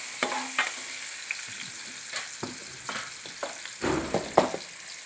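Onions fry with turmeric in a pan, making a low sizzle under intermittent stirring scrapes and knocks, close and unaccompanied by voices.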